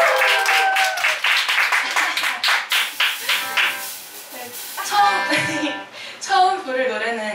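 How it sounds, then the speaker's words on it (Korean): Open mic crowd at a small café clapping in a burst that thins into scattered claps, followed by a voice speaking and faint tonal sounds at the end. "박수 한 번."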